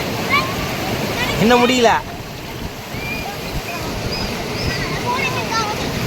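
The overflowing Veppur stream rushes in a constant loud roar of water beneath a voice speaking briefly, with faint birdsong above.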